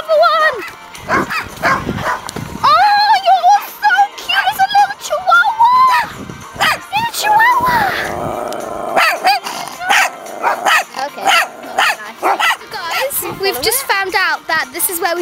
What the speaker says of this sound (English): You're a cute dog.